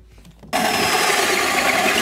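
A hole saw with a centering drill bores into a plumbing workpiece, kicking in abruptly after a quiet moment as a loud, steady grinding rasp that runs without a break.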